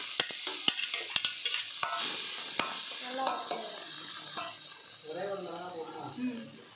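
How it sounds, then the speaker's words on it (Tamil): Mustard seeds and boiled cabbage sizzle in hot oil in a kadai, a steady bright hiss with scattered pops and spoon stirring, while a voice talks quietly in the background. "ஒரு கடாயில் எண்ணெய் ஊற்றிட்டு கடுகு போட்டுட்டு அப்புறம் நம்ம வேக வச்ச கேபேஜ்"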